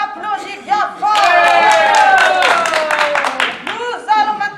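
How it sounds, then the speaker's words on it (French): A theatre audience greets contestants stepping onto the stage of an amateur play with loud, sustained clapping and a few cheers, a dense crowd swell that rises suddenly and fades in ragged bursts. "Les candidats montent sur scène et on les applaudit bien fort."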